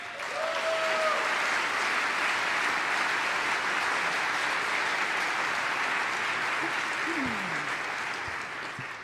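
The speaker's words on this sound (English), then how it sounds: "So please, a round of applause for Kerry Miller." A large audience at a town hall forum breaks into sustained, even applause, a broad roar of many hands clapping that holds steady before tapering off slightly at the end.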